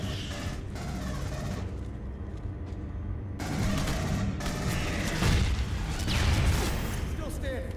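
Machine gun fire in Alien: Colonial Marines, with bursts of rapid dense shots mixed with booms and combat noise, loud and near, with people talking at times.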